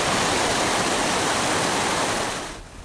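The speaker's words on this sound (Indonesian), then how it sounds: "para orang tua di Desa Jugosari, Lumajang, Jawa Timur, rela menggendong anak mereka melewati derasnya aliran Sungai Regoyo." River water rushes hard during a cold lahar flood from Mount Semeru in Lumajang, East Java, a loud, dense, constant roar that eases slightly at the end, with no voices.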